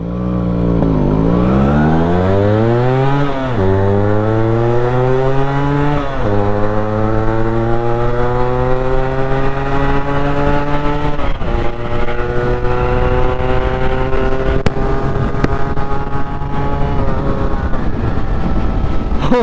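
Yamaha RX two-stroke motorcycles ride on a monsoon trip, a loud, continuous engine note climbing through repeated gear shifts, each rev sweep rising then dropping, with no talk over it.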